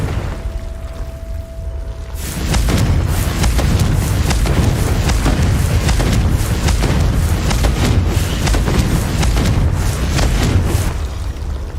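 A Confringo fire spell explodes in Hogwarts Legacy on PS5, a loud rumbling blast that swells after a quiet start and roars on as a dense, sustained crackling boom.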